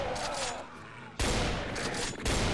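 A chaingunner enemy in Doom 2 opens up with its chaingun, a dense rapid burst of gunfire that begins abruptly midway and keeps hammering loudly to the end.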